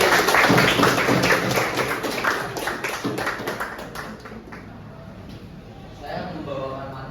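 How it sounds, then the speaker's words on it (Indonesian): A group of people claps together during a physical education class session, a burst of fairly loud, dense clapping that tapers off, with voices talking over it. "Oke, tepuk tangan dulu."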